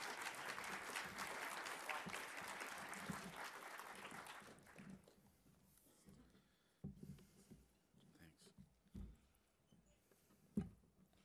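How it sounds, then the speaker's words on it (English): An audience at a panel session applauds a speaker, a full round of clapping for about four seconds that fades out, followed by quiet room noise and scattered small thumps. "Get a round of applause for Trista"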